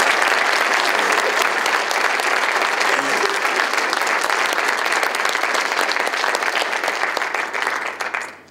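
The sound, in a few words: audience applause at college ceremony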